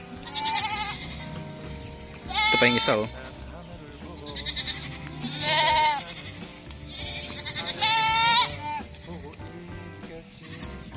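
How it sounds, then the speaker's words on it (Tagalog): Several large female breeding goats bleat in repeated wavering calls, fairly close, while a person talks over a steady outdoor farm background. "Ayan na yung mga kambing, paparating na."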